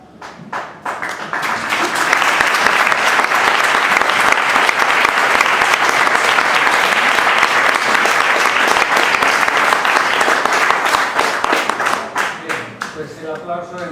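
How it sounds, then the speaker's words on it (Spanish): A large audience at an event gives loud, sustained applause to welcome three guests, building into a dense roar of clapping that holds steady before tapering off at the end. "Pues el aplauso en realidad es para recibir a este terceto"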